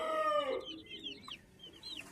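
Two-month-old chicks and chickens clucking nearby, a short burst of clucks and chirps followed by softer calls, fairly faint, with no talking.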